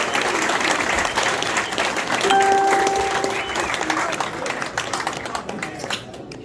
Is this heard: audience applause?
yes